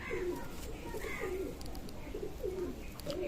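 Aliwala pigeons in a loft give a run of soft, rhythmic coos, repeating close together at a moderate, steady level.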